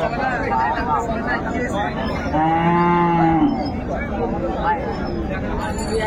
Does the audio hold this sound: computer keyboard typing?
no